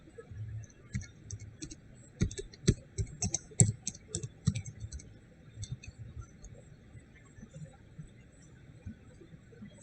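A computer keyboard is typed on while entering headings into a Google Sheets spreadsheet, bursts of quick close clicks clustering in the first half and then thinning into sparse taps, alone without talk.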